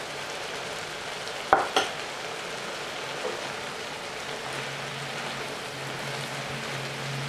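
Flour is stirred into a sizzling pan for shrimp and grits, giving a steady frying hiss with two sharp utensil knocks early on and soft scraping strokes. Nobody talks.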